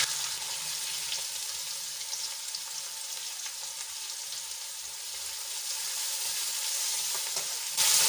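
Two large finely chopped onions fry in hot oil with cumin, a bay leaf and asafoetida, giving a steady, even sizzle that holds for several seconds and swells briefly louder at the very end, with no talking.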